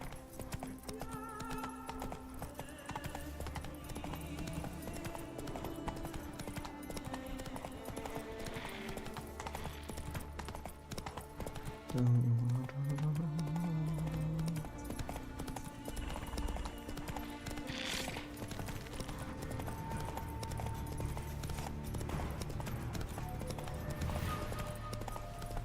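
Roach, a horse in The Witcher 3, clip-clops at a steady walking rhythm through the whole stretch alongside game music, with a brief whinny near the middle; no one speaks.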